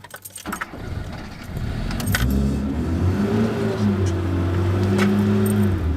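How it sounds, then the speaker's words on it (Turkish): A car engine is started: keys jangle and click, then the engine cranks and catches, settling into a steady close idle with a brief rev, and no talking over it. "Şu arabayı bir çalıştıralım bakalım."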